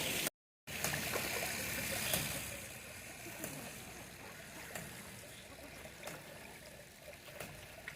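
Water from a ram pump runs through a channel on an aquaponics fish pond farm, a steady, soft, close wash and trickle with brief clicks and a short break near the start.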